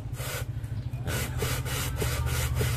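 A Yamaha NMAX engine part is rubbed back and forth on sandpaper laid on glass, a steady rhythmic rasping scrape of repeated strokes, close and alone.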